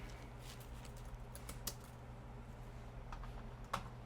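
Typing on a computer keyboard, one of two keyboards at a desk: faint, scattered key clicks over a low steady hum, with a few sharper taps standing out and no talk.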